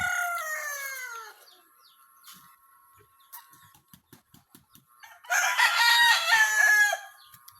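Gamecocks raised for cockfighting crow loudly nearby, with a drawn-out cock-a-doodle-doo at the start, scattered clucks and chirps in between, and another long, strong crow near the end.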